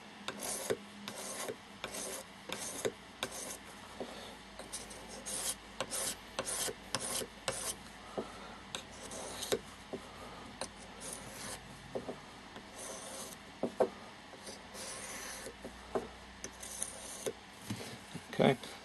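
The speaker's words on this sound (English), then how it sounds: "at this stage I'll start sharpening the knife" A knife is sharpened in repeated rasping strokes, close and fairly quiet, with a steady back-and-forth rhythm of scraping bursts and brief pauses between them.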